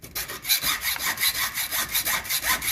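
Handsaw cutting through a battery cable on a 1954 Ferguson 20 TEF diesel tractor, a close, steady rasping of about a dozen even back-and-forth strokes with no talking.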